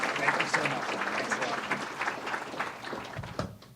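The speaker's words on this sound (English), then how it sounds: "So let's give him a big round of applause, Mayor Craig Greenberg." An audience at a Louisville police promotion ceremony applauds Mayor Craig Greenberg, a full round of clapping that stays strong, then thins near the end, with faint voices mixed in.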